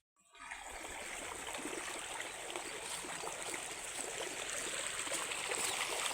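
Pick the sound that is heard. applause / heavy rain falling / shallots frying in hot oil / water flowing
water flowing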